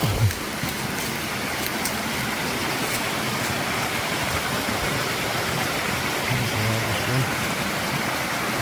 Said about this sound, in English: it's the first of the miniature waterfalls. It's the largest of the small ones.